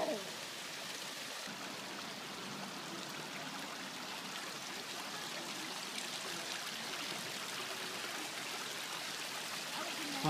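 Water rushing at Cascade Waterfalls, a steady broadband outdoor wash of flowing stream water that holds at an even level throughout and carries no clear voices.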